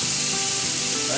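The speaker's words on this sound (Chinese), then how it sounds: "牛肉把它炒到像这样子变色就可以了，不要炒太久。" Beef for Korean japchae stir-fries in a hot pan, giving a loud, steady, continuous sizzle with no break and no voices.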